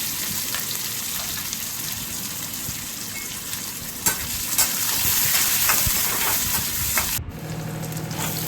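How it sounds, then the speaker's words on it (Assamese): Steady, close sizzling of onions frying in oil, a dense crackling hiss with occasional scraping clicks, no voices, ending in a brief dip. "সেই তেলতে মই পিঁয়াজ দি দিছোঁ পিঁয়াজখিনি অকণমান ৰঙচুৱা হোৱাকৈ ভাজিম"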